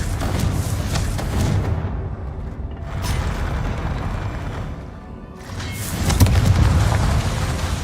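In Hogwarts Legacy, a Confringo blasting spell sets off rumbling explosions, loud and close. Heavy booming bursts are broken by brief dips and then a renewed, stronger blast.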